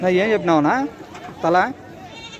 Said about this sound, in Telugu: ఇక్కడ మేకలు కూడా ఉన్నాయి.